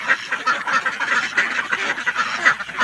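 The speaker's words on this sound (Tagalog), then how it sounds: "so dapat silang mapalitan ng bagong mga itik" Laying ducks on a farm quack continuously, many overlapping calls from a close flock forming a busy, steady chorus with no talking.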